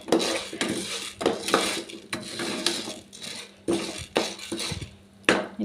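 Vermicelli roasting in a pan is stirred with a metal utensil, giving repeated scraping and clinking strokes in an irregular rhythm, close and fairly clear.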